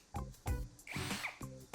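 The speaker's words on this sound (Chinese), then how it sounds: "要用电钻夹着丝杆打碎药剂，" An electric drill spins a threaded anchor bolt held in its chuck, crushing and mixing a liquid anchor resin capsule inside a drilled hole. Several short, close motor whirs come in bursts with brief pauses between them.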